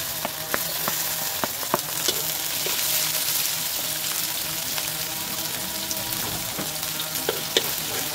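Bitter melon and onion fry in a pan, giving a loud, continuous sizzle. Scattered clinks and scrapes come from stirring, all close by, and no one speaks.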